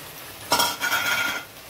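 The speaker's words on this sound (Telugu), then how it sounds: "ఇప్పుడు ఇందులో పుదీనా, కొత్తిమీర వేసుకొని, అలాగే మనం కలిపి పెట్టుకున్న చికెన్ కూడా వేసుకొని" Marinated chicken with mint and coriander hitting a hot pan for cashew-almond chicken fry, a sudden burst of sizzling with some utensil clatter, fading to a steady fry, no talking.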